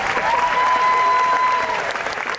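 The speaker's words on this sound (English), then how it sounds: "Another round of applause." A large audience at the D23 Expo Parks and Resorts presentation applauds: loud, dense, sustained clapping filling the hall, with a faint whistle or cheer riding above it.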